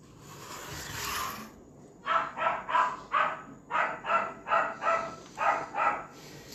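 Several dogs bark in a steady run of about nine sharp, evenly spaced barks, fairly close and loud, after a stretch of rushing noise.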